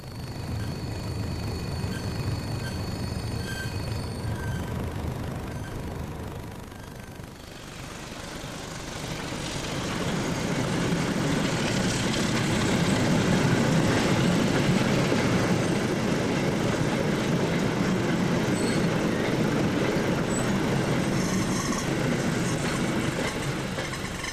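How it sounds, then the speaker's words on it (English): A freight train braking as it approaches East Peckham siding: steady rumbling with a broad hiss of brakes swelling after a brief dip, continuous and close, with no voices. "Driver Weeks supplies the brakes as we approach East Peckham siding"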